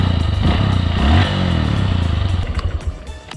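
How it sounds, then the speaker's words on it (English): A 2019 Honda CRF150L dual-sport motorcycle engine runs loud and close, a steady rough idle that swells briefly and then settles into a choppy, pulsing putter. "So ito yung andar ng makina natin guys."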